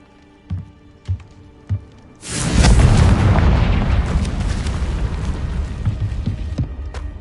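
A Confringo fire spell in the Hogwarts Legacy video game erupts into a loud, roaring explosion after a few short thuds, then keeps rumbling and crackling with sustained noise to the end.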